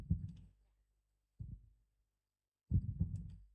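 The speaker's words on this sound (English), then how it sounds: "It's been so long since I actually heard the heartbeat in this game." Heartbeat effect in Minecraft on a Wilderness SMP server, heard as three soft, low thumping pulses spaced about a second apart, with no talk over them.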